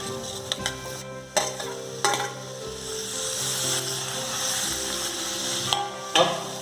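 Tomatoes hit sautéed onions in a hot pan for an onion-tomato cream curry, giving a continuous sizzle with sharp scraping and clanking stirring strikes at irregular intervals, close and alone without talk.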